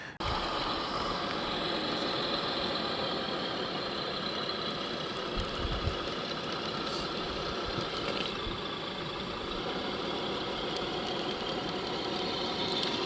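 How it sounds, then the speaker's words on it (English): A CrossRC NT6 Unimog 6x6 RC truck's sound module plays a diesel semi-truck engine idling, a steady low rumble with faint knocking that runs unbroken throughout at moderate level. "It was just a diesel truck, semi-truck for the sound, and I think it sounds really good."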